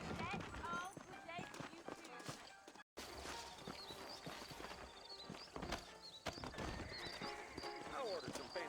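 Horse hooves clip-clop steadily at a walking pace in Red Dead Redemption 2, a horse snorts and whinnies now and then, amid busy outdoor ambience and some talk.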